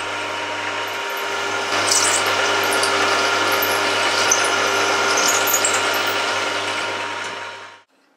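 A drill boring a 6.5mm hole through half of a metal clamp for a rotary head spindle lock, a steady loud whirring grind that runs close and unbroken for about seven seconds before cutting off.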